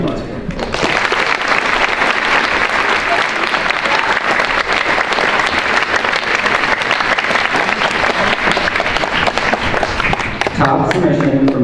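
Audience at a high school Veterans Day program claps in a loud, full burst of applause that rises quickly and stays steady for about ten seconds before a voice starts speaking over its tail.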